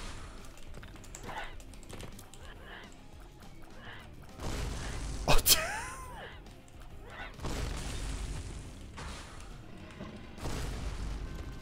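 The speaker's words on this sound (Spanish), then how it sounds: "¿Cuánto quitará la explosión?" A meteorite item crashes down and explodes in a video game, one loud burst in the middle of the clip after a stretch of quieter game noise, followed by a rumbling tail and further clattering.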